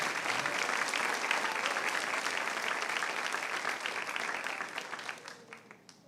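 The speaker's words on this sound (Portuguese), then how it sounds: "Se é para o Senhor, aplauda mais forte." Church congregation applauding, a dense sustained wash of many hands clapping together, loud and steady before tapering off toward the end.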